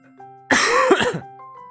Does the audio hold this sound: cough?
yes